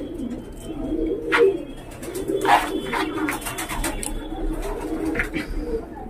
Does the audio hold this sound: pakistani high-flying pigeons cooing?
yes